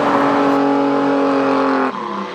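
A roof-chopped Ford 100E fitted with a Capri V6 engine revs hard and loud close by, its steady harmonic roar holding for about two seconds before easing slightly at the end.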